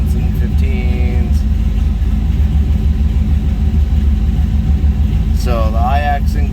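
Steady low rumble of an LS-swapped Chevy C10 V8 idling nearby, continuous and even throughout, with someone talking over it.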